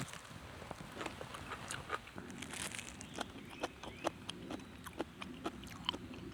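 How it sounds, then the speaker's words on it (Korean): Someone bites and chews well-fermented, three-year-aged kimchi, making a quiet, close series of irregular crisp crunches. "확실히 아삭아삭 소리가 잘 들리네"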